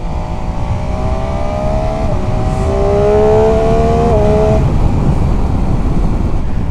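Motorcycle engine, a 2019 MV Agusta F3 800 with quick shifter, accelerates steadily through gears with rising whine and brief shift dips, heard over strong wind rush and road roar while riding.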